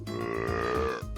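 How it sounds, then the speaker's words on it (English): A single wet, gurgling burp, loud and close, lasting about a second with a deep rumbling tone. "Yeah, I can do wet burps."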